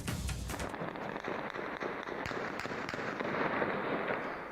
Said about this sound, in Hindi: बम विस्फोट की आवाज भी आप सुन सकते हैं